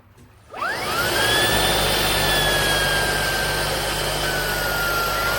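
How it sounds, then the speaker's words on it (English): A Shark cordless vacuum cleaner with HEPA filter switches on after a faint moment and then runs at a loud, steady roar, with a rising whine that settles into a constant high tone. "So this is the new Shark vacuum cleaner."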